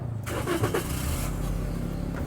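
A 2016 Daihatsu Grand Terios engine cranks and catches, settling into a steady idle hum, fairly close with no voices.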